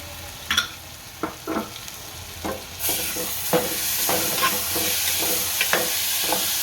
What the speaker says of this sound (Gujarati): હવે ટમેટા નાખશું